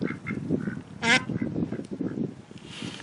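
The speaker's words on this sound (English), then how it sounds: "The ducks are quacking." Ducks on a farm quack in short repeated calls, with one louder, closer nasal honk partway through, set against a low murmur of outdoor background noise.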